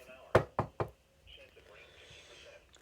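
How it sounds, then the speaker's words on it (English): Three sharp knocks on wood, close and crisp, come in quick succession, followed by quiet room noise and faint murmuring. "Knock on wood."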